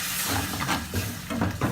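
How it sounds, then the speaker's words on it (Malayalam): Hot spices in a pan hiss and steam steadily as water is poured in for a Kerala-style crab roast, a continuous close sizzle with a few louder bursts. "ഇനി ഇതിലേക്ക് നമുക്ക് ഒരു 1/2 ഗ്ലാസ് വെള്ളം ചേർത്ത് കൊടുക്കാം."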